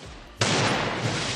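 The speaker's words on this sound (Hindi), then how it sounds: "मैं फुल्ली गोली चला रही भाई।" A sudden burst of dense, continuous gunfire erupts after a brief quiet moment, loud and sustained like rapid automatic fire in a game.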